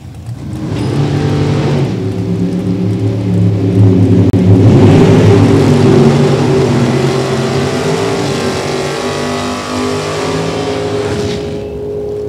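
A 2002 Corvette races down a drag strip in the Super Gas class, its engine roaring loud and sustained for several seconds before easing off.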